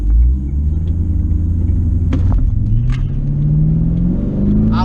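An automatic C5 Corvette launches down a drag strip with traction control on, a loud, close engine roar that climbs steadily in pitch as the car pulls away.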